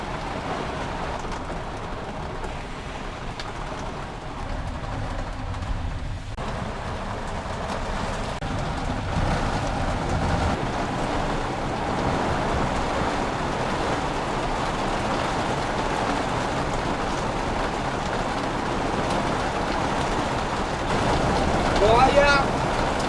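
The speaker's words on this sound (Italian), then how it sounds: "Senti la pioggia? Ho messo il microfono sopra." Rain drumming on the roof of a camper, recorded with the microphone set on top, a steady dense patter that holds throughout, with a brief voice near the end.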